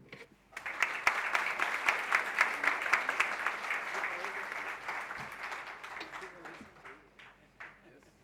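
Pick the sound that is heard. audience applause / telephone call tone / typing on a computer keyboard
audience applause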